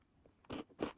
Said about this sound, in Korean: 인절미 호콩이보다 좀 더 부드럽게 바삭거려요.